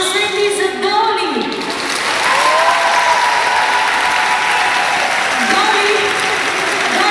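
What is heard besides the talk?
audience applause at a dolphinarium show in Varna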